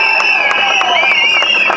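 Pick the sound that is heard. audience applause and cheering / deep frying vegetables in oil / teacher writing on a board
audience applause and cheering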